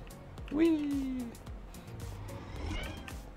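A whiny cat meows once, drawn out and falling, inside the modded Minecraft game, followed by faint clicks and footsteps under a person's talk.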